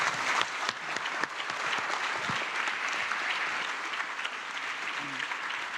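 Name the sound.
audience applause for Dr. Mahathir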